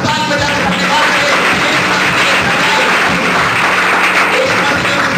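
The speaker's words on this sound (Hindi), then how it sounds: "आइए परमेश्वर ताली बजा के अपने बात करें।" A church congregation claps together at a worship service, loud, dense and continuous applause filling the whole clip with no break.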